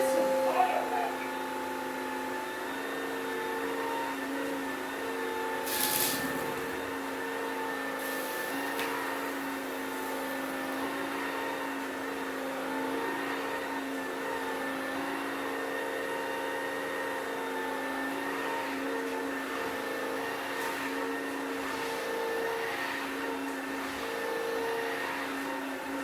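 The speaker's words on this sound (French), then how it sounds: "Là, j'ai appuyé et il accélère l'aspiration." ILIFE W90 wet-dry vacuum cleaner running steadily at close range, its motor whine and suction hum rising slightly as power increases, with a few brief clicks and knocks over a constant tonal drone.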